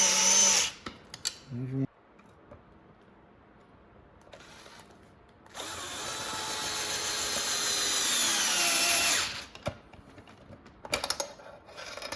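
Short whirring bursts of a magnetic screwdriver driving screws, a long steady run in the middle and brief pulses either side, with a voice speaking briefly between them.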